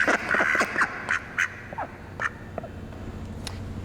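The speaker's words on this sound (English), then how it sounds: "You ready to quack for science?" A duck quacks in an echoey warehouse, a quick burst of loud honking quacks followed by a few sparser calls, each trailing into a reverberant tail, with no voices.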